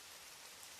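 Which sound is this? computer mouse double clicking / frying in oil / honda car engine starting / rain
rain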